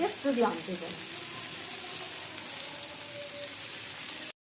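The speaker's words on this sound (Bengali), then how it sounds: "এটা কিন্তু বাটার দিয়ে ভাজা হচ্ছে" Steady, close sizzling of chicken frying in butter in a hot pan, a continuous bright hiss with a brief voice at the very start.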